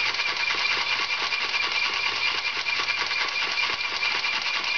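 A large working steam engine of the kind once built for teaching in Polish schools runs steadily, giving a continuous mechanical chugging hum with a fast, even rhythmic beat, loud and alone.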